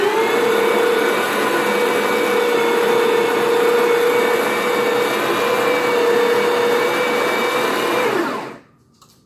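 A Delonghi Magnifica espresso machine grinds coffee beans with a loud, steady whirring drone that holds for about eight seconds, then winds down and stops.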